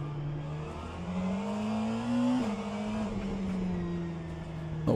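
Simulated race car engine in rFactor 2, a McLaren in an endurance event, droning steadily with pitch climbing through a gear, a sharp drop at a shift, then rising again, loud and continuous.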